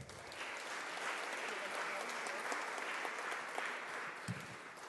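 Continuous audience clapping in a lecture hall as a senator is greeted, a steady wash of applause with voices faintly underneath.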